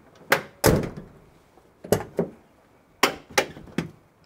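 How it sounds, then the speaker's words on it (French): The door of a Nissan Patrol GQ/GU (Y60/Y61) with worn hinges clunks several times, with sharp metallic knocks in uneven bursts and short pauses between them, close and fairly loud, with no talking. "En symptôme assez chiant, on se retrouve aussi avec des portes qui claquent."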